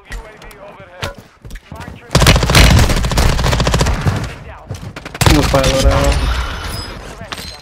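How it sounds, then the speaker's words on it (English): Rapid bursts of weapon fire from grenade launchers in an online shooter game, loud and dense, arriving in two long volleys between sharper single cracks, with players talking throughout. "shooting grenade launchers and shit, of course"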